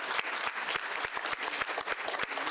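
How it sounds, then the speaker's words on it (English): An audience at a press briefing breaks into steady applause, a dense wash of many hands clapping together at a constant level, heard from within the room with no one speaking. "So please give everybody a round of applause."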